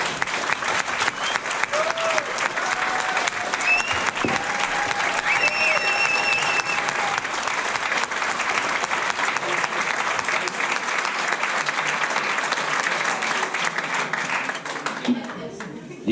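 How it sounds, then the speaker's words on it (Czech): Talk show studio audience applauding a guest in a Czech television studio, a loud, dense wave of clapping that holds steady before fading at the end, with a host's voice speaking over it. "Díky moc, že jste zatleskali."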